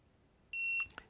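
A TST 507 Series tire pressure display gives a single electronic beep, steady and fairly loud for about a quarter second, followed by a faint click; quiet background otherwise.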